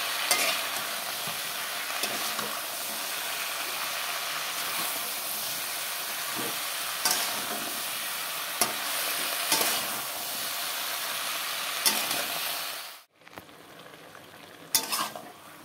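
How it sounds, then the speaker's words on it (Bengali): Mixed vegetables with chili powder and green chilies fry in a pan with a constant close sizzle and repeated stirring scrapes, then the sound drops sharply near the end as the pan is covered, leaving a quieter hiss and a couple of clinks. "এখন নাড়াচাড়া করে তারপর ঢেকে দেবো।"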